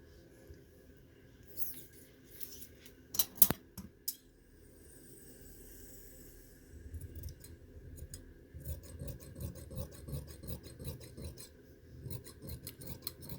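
Scissors snip through abaya fabric in a quiet room, a few crisp cuts followed by a long run of soft rhythmic blade strokes and rasping cloth, close and faint.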